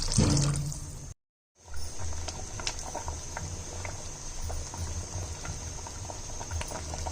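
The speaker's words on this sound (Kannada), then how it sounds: "ಈಗ ನೀರು ಸೇರಿಸ್ಕೊಂತಿದ್ದೀನಿ." Water pours and bubbles steadily into a cooking pot of lentils, tomato and onion for drumstick sambar, a continuous hissing patter after a brief cut of silence near the start.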